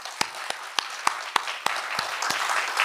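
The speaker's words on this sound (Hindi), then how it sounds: "एक बार ऑपरेशन सिंदूर के लिए जोरदार तालियां" Audience applause at a Hindi comedy poetry gathering, starting as a few sharp, separate claps in a slow rhythm and swelling into steady, moderately loud clapping from a crowd.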